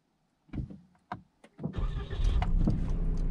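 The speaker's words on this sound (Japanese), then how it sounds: "エンジンをかけます" A couple of short starter clicks, then a Suzuki Hustler's engine cranks and catches, settling into a loud, steady running rumble.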